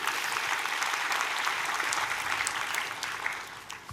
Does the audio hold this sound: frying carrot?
no